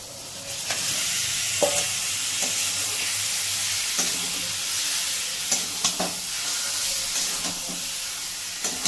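Chicken pieces fry in hot oil with lightly fried spices for a spicy chicken kasha, a steady broadband sizzle with occasional stirring scrapes and clicks, close and continuous, with no voices.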